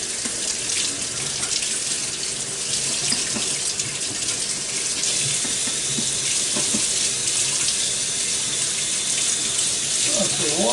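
Running tap water pours steadily over a Ninja Foodi grill part being rinsed clean, a continuous loud splashing gush with small clattering shifts and no speech.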